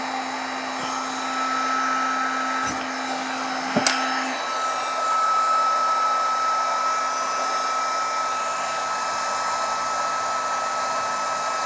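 A handheld craft heat tool blows steadily on its lower heat setting, a constant close whooshing hum that holds level for the whole stretch.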